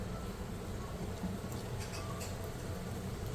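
Chicken pieces fry in moderately hot oil for Mongolian chicken, giving a soft, continuous sizzling hiss at low volume with no talking.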